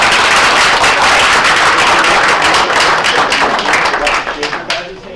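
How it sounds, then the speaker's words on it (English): Audience applause fills a school board of education meeting room, dense steady clapping from many hands that holds loud throughout before thinning and tapering off at the end. "please give her a round of applause"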